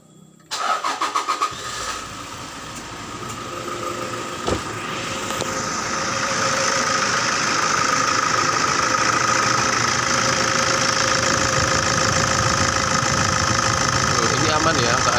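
A used diesel car engine cranks and fires after a brief quiet start, then settles into a steady, loud, close idle with a knocking rattle that holds for the rest of the clip.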